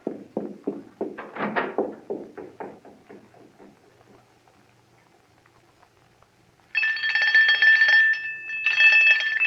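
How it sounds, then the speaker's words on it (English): Someone speaks briefly, then after a pause an electric doorbell buzzes loudly in two long rings separated by a short gap. "Ring the doorbell. I'll hear it. Ring it loud."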